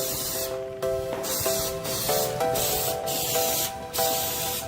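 A spray gun lays a thick coat onto a flat object in a string of hissing bursts separated by short pauses, with a faint tonal hum running underneath, close and fairly quiet.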